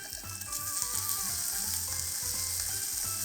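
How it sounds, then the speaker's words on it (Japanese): Bacon fries in a pan over an outdoor camp stove, giving a steady, loud sizzle with scattered pops and no voices. "ベーコン焼いていきます"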